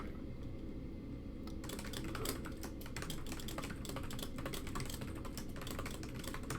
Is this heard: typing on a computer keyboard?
yes